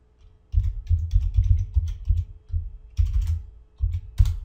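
A login password goes into a computer keyboard as a series of close, light key clicks. The taps come in short bursts separated by brief pauses.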